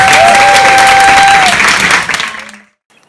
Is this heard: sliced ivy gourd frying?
no